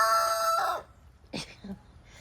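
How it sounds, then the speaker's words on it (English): A rooster from a backyard chicken flock crows loudly and close, the call trailing off after under a second, followed by a few brief clucks and squawks. "They crow all the time."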